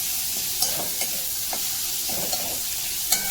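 Taro stolons fry in a pan with a continuous crackling sizzle close by, punctuated by several light, regular scraping strokes of a stirring spoon, with no voices.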